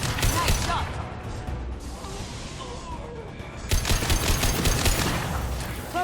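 Shootout in Mass Effect 2, with sci-fi rifles firing in dense rapid bursts, glass shattering and impacts cracking loudly, briefly thinning out before another heavy volley; a voice talks faintly underneath.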